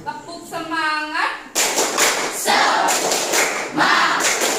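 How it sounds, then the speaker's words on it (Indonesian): A classroom of children does a rhythmic spirit clap, sharp patterned bursts of hand claps following a teacher's spoken lead, with children's voices chanting along. "Sekarang kita tepuk semangat dulu sebelum memulai pembelajaran."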